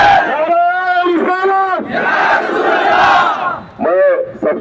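A protest crowd loudly chants a religious slogan, Takbir, in repeated rhythmic bursts of many voices, close and raucous, with short pauses between shouts.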